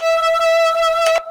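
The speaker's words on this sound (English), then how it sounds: "So I added the distortion to add a bit more bite to the top end" A sustained, buzzy distorted drum and bass synth tone made in Kilohearts Phase Plant, with a gritty, bright edge, holds one steady pitch, swelling briefly with a noisy burst before cutting off abruptly.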